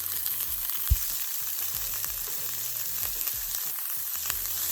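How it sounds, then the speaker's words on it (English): Peppers, onion and garlic sautéing in hot vegetable oil in a pot, a steady close sizzle with occasional soft stirring knocks and thumps, no talking. "Now we're gonna add in our peppers, onion, and garlic."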